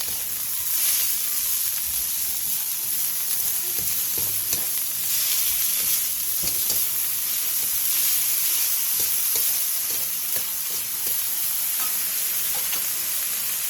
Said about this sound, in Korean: 팬에 기름을 두른 뒤 부추, 다진 마늘 3분의 2스푼, 소금 3분의 2티스푼을 넣고 센 불에서 볶아주세요.